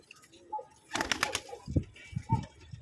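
Pigeons coo in low, throaty bursts, a few soft calls close by with a brief flutter of activity in between.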